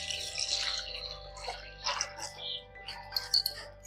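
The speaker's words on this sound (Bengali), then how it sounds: "এবার দিয়ে দেব জল।" Water poured from above into a bowl of thick flattened rice, a faint, close trickle with small splashes and drips over a low steady hum, no talking.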